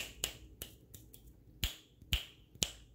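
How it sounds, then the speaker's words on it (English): Six sharp finger snaps ring out close and crisp, irregularly spaced across a few seconds, with no talking in between. "tell me how many times I am snapping my fingers"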